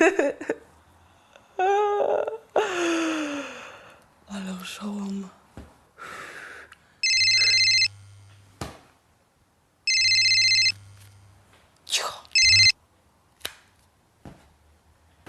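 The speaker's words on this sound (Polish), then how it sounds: "Czemu nie odbierasz telefonu?" A telephone rings in two long electronic bursts with a short pause between them, followed by a brief clipped ring, amid scattered voice sounds and breaths in an indoor comedy scene.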